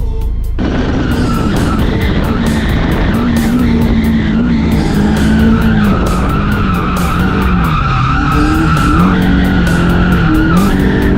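A Toyota Corolla drifting at Apple Valley Speedway, engine roaring hard and steadily with long wavering tire squeal sliding through the turns, loud and close throughout.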